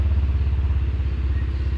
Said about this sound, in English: I got a motorcycle going by.